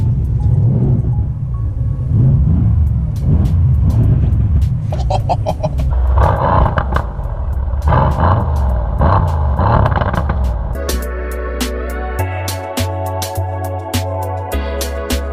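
A Mercedes C63 AMG in Sport Plus mode with a manual gearbox drives with a loud, steady engine roar and rumble throughout. Near the end the tone shifts to a higher, buzzier pitch with sharp pops and crackles.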